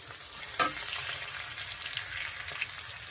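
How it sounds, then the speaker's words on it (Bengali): Onions sizzling in a pan with cumin, dried chilli and bay leaf, a continuous close hiss with one sharp clank of a utensil early on and a few light scrapes. "এই সরি পেঁয়াজ ভাজছি এটা একটু লাল লাল হোক"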